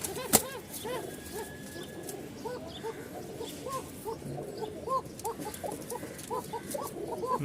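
A Bashiraj pigeon cock coos in short repeated calls among other pigeons in a loft, a rhythmic series of nearby cooing notes with soft rustling, no talk.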